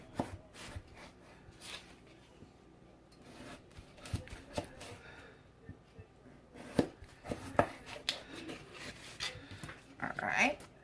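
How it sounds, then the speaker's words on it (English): A knife chops through potatoes on a cutting board, cutting them into wedges with irregular close thuds and scrapes. Soft talk is heard in the background. "I don't know if this is exactly how you're supposed to cut potatoes into wedges"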